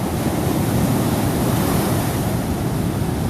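Big ocean waves surge under a pier as a steady, loud rushing roar of surf, with some wind buffeting the microphone.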